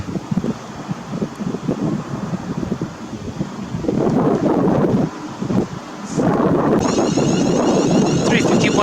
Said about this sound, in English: we've got a London Euston train coming in